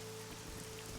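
Rain falling in the video game AI: The Somnium Files, a quiet, steady hiss of rainfall with no voices over it.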